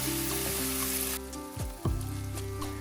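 Onions and chopped tomatoes sauté in hot oil with ginger garlic paste, a steady close sizzle with a couple of stirring knocks from the spoon partway through.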